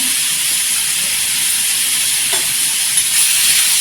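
Green chilies and tomatoes sauté for a spicy Maharashtrian thecha, giving a steady broad sizzle with faint stirring, close and alone, with no voices.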